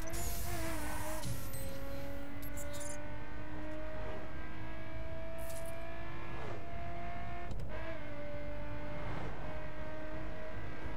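A car in a racing video game accelerates hard through several gear shifts, its engine tone rising steadily and dropping at each change, loud and continuous from a cockpit view.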